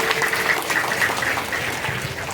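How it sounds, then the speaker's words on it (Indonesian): An audience in a mosque hall claps to welcome a professor at a Sunday morning religious gathering, a dense, steady wash of many hands clapping together, fairly loud and sustained without a break. "kita sambut dengan tepuk tangan yang meriah dulu."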